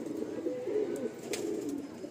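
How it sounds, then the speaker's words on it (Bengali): A female pigeon coos softly, a low throaty warble rising and falling across a couple of seconds, close and fairly quiet, with no voices. "এটা কিন্তু মাদি পায়রা"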